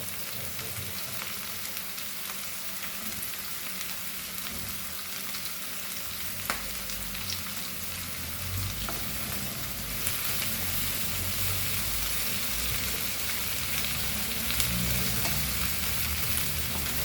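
Chicken sizzling hard in a pan with tomatoes and green chilies, a steady dense hiss and crackle with occasional stirring scrapes, close-up and continuous, no voices.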